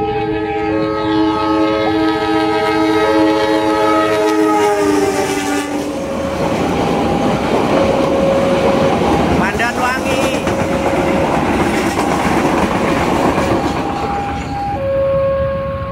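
A train crosses a busy railway level crossing in Indonesia, sounding long sustained horn blasts over a loud continuous rumble and clatter of wheels, while traffic waits and a voice speaks.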